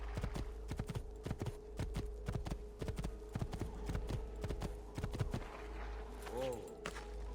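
Horse hooves clip-clopping in Assassin's Creed 2, a brisk, close, rhythmic run of hoofbeats on hard ground, ending with a short whinny near the end and a voice talking over part of it.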